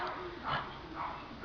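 A dog barks twice at home in short, soft yips about half a second apart, faint and somewhat muffled, with little else around it.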